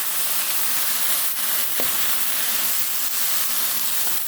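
Freshly washed spinach dropped into a hot stir-fry pan with vegetables and tamari, giving a constant broad hiss and sizzle of steam, steady and fairly loud with no talking.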